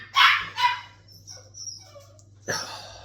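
A puppy gives a couple of sharp yips close by, then a softer whine and another short bark after a pause.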